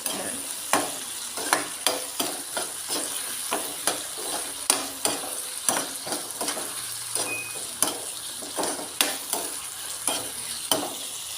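Tomatoes and spices frying and being stirred in a pan for a Kerala fish curry masala, a steady sizzle broken by regular scraping stir strokes, close and loud with no talk.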